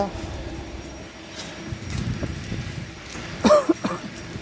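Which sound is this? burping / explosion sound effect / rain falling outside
rain falling outside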